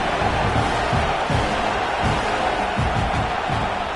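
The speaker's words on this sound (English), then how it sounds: "This Auburn crowd trying to conjure up a little magic here on third down." Auburn football stadium crowd during a game against Mississippi State, a loud constant roar with rhythmic rising swells on third down.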